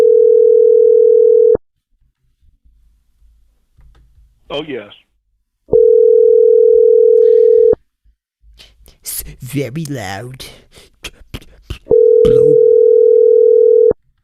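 A telephone dial tone sounds three times as a loud, steady, unbroken hum, each burst lasting about two seconds, with people talking in the gaps between the bursts.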